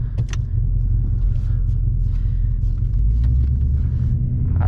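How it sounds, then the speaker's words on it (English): A 2024 Mustang GT with long tube headers, exhaust in track mode, rumbles with a steady deep low drone while driving on the road, loud and continuous with no talk. "the exhaust is gonna be in track mode to really hear these long tube headers on this 2024 Mustang GT"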